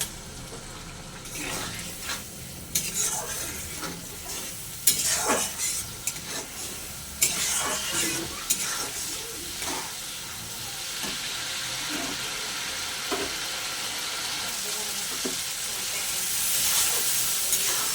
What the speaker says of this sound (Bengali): এবার অল্প একটু জল দেবো, দিয়ে মশলাটা আরেকটু ভালো করে কষে নেব।